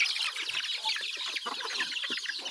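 Farmyard chickens cluck and chatter continuously, several birds close by in a busy, overlapping flock with no pauses.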